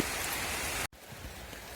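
Heavy monsoon rain pours outdoors under a tree while grass is being cut, a dense continuous hiss broken by a brief dropout near the middle.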